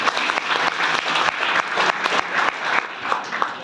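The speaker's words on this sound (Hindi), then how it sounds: "तो एक बार मेरे लिए जोरदार तालियां हो जानी चाहिए।" A crowd of students claps loudly at a school farewell for class 12, the applause rising and falling in uneven bursts with sharp individual claps standing out throughout.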